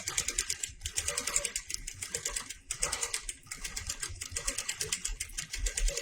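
Longarm quilting machine stitching a door hanging, a loud steady rapid rattle of needle strokes in even pulses, repeatedly pausing and resuming, up close with no talk.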